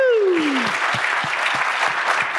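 Audience applause for panelists at a SharePoint conference live show, a steady wash of clapping following a falling whoop or cheer at the start, fairly loud and close throughout.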